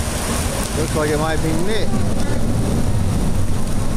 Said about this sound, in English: You can see somebody coming there in the pouring rain.